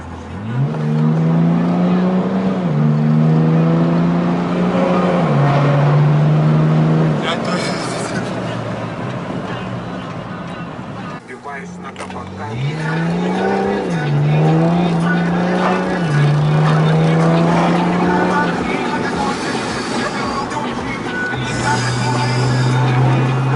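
A diesel BMW M3 pulls hard through the gears, its engine note climbing loudly in repeated surges with brief drops between shifts, heard from inside the car while occupants talk over the roar.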